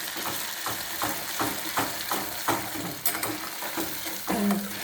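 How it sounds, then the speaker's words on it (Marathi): Ground spice paste for methi matar malai fries in oil while a spoon stirs it in regular, rhythmic strokes, each scrape rising over a constant close sizzle, with no speech. "वाटून घेतलेली पेस्ट हे छान हलवून देऊया"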